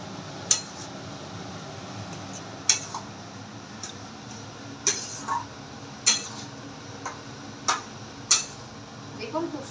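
A spoon stirring a yellow cooking mixture in a home kitchen pan, with sharp, quiet clinks of metal on metal at irregular intervals over a low background hum.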